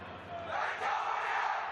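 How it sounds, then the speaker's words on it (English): Home fans cheer in a large football stadium during an AFC Champions League Two match, a broad steady roar of crowd noise that swells slightly and holds for under two seconds. "atmosphere suiting the occasion as the home fans seek to cheer their team into the second half"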